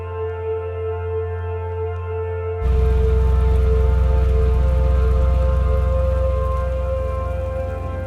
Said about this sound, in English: Pouring rain, we eventually enter the last port on Iceland